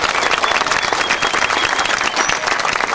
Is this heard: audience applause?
yes